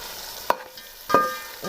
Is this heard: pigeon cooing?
no